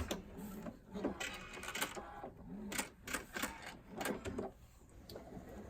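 A sewing machine stitching quilt binding, its needle chattering in short whirring runs that stop and start, with a pause partway as the quilt is pivoted, heard close but faintly.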